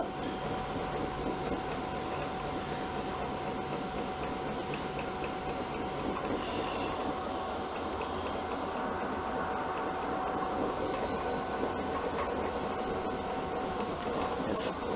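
A FeltLOOM felting machine runs steadily, needling wool through with a continuous fast mechanical ticking and clatter at even volume, ending in one brief louder knock.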